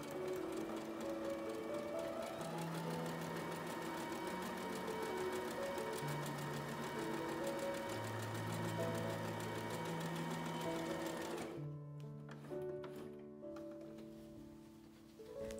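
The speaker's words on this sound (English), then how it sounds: "sew a straight line down with some seam allowance" Electric sewing machine stitching a straight seam in fabric for a scrunchie, a steady continuous motor whir with shifting pitch running throughout, briefly pausing and restarting near the end.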